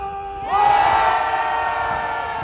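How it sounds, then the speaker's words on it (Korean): Massed cheering and yelling from a rally crowd at Dongdaegu Station erupts suddenly about half a second in, then stays loud and continuous, a thick wall of voices with scattered higher whoops. "30대 함성!"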